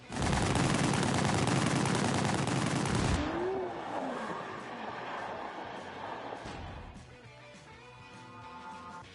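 Gunfire in The Grand Tour video game, a dense burst of loud rapid shots for about three seconds, then a fading rumble with scattered engine and crash noise.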